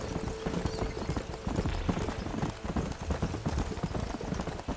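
A horse gallops in Red Dead Redemption with rapid, rhythmic hoofbeats close up and fairly loud throughout, a faint voice briefly in the mix.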